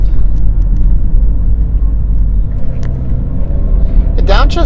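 A 2004 BMW X3 (E83) engine hums steadily from inside the cabin while driving and downshifting, a low continuous rumble with road noise, and a voice speaks briefly near the end.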